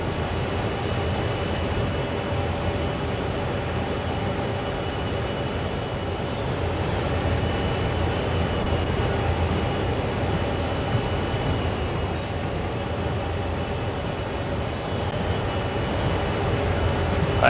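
A locomotive in Train Sim World runs steadily along the railway, a constant engine drone and rumbling wheel noise that holds level throughout with no voices.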